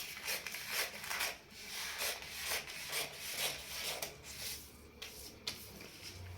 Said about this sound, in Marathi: आता आपण क्रॉसपट्टी कापून घेऊ.